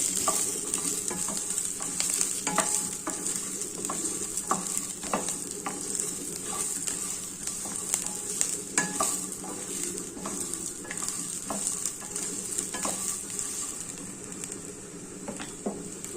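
Ivy gourd curry sizzles steadily in a pan while a spoon scrapes and stirs it with repeated clicks, heard close up throughout.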